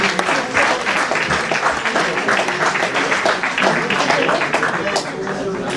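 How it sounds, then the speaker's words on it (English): Strong, sustained applause from a large audience at a national award ceremony in India, dense and continuous with crowd murmur mixed in throughout. "Please keep the applause going,"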